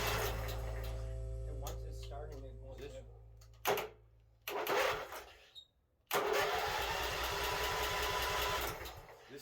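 A John Deere tractor engine being rebuilt into a drift tractor cranks and sputters through low rumbles and brief gaps. It then catches and runs with a rapid, pulsing chug, close by, while people talk over it.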